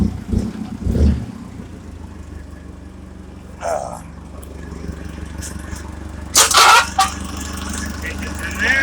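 A small 4-cylinder car engine idles in a shop with a steady low hum, while a few brief, louder knocks and rattles break through near the start and later.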